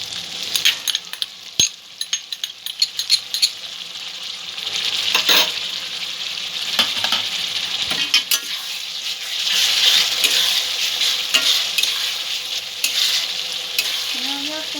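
Chopped onion and tomato fry in a pan for a chicken curry, giving a steady close sizzle broken by stirring scrapes and occasional metallic clinks of a spoon, with no voices.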